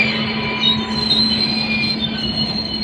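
Slow train passing through Khantapada station on railway tracks, with steady, loud wheel squeal and a continuous rolling rumble close by, no voices.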